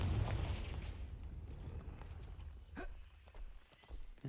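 A Confringo fire spell exploding in the Hogwarts Legacy video game, a deep rumbling blast at the start that fades into a rolling decay, with a sharper crack near the middle and a few faint thuds.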